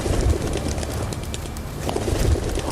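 A pigeon-like bird coos twice with low, soft throaty calls, close and fairly loud over a steady outdoor background hiss, at the Amarnath cave region.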